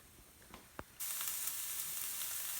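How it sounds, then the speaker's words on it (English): Celery and carrots hit a hot pan after a couple of faint taps and then sizzle loudly and steadily, a bright close hiss that continues to the end. "once your pan is hot and you get those going, then you just let them cook until they're a little bit soft"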